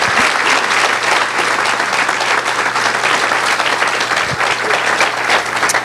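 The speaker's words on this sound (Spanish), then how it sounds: "Denle un fuerte aplauso al Señor en esta mañana." A church congregation at a Spanish-language morning service breaks into loud, sustained applause, dense and even clapping from many hands filling the room throughout.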